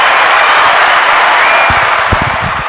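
A room full of people at a birthday party breaks into loud applause, a dense wash of hand clapping with a few voices mixed in, easing off slightly at the end.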